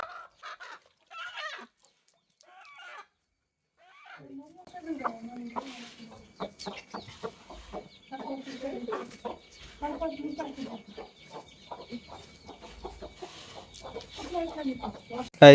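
Fighter chickens in a village yard cluck and call close by in a busy run of short, irregular notes, with a few scattered sounds before the flock grows more active and keeps clucking to the end.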